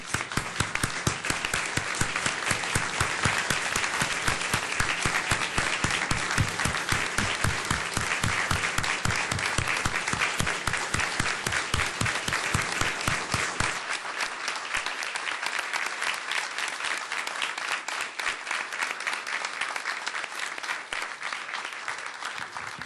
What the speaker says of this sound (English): join me in a round of applause, wishing him the best on a very, very well-deserved retirement